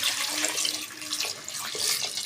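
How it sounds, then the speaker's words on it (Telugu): Tap water gushes into a pot of salted potatoes, a continuous splashing pour, close and fairly loud, with small surges in the flow. "ఇప్పుడు నీళ్ళు వేసి ఉడికించుకుందాం మనము."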